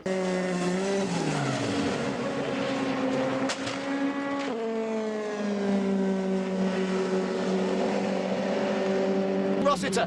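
Race cars scream past on a circuit with chicanes, their engines holding high, sustained tones that shift in pitch. A commentator's voice runs over the engine noise throughout.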